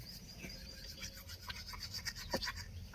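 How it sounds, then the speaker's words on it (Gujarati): Toothbrush scrubbing teeth at home, a quiet close-up rasping and scratching in short irregular strokes with no talk. "હવે હું બ્રશ કરી લઉં છે ને"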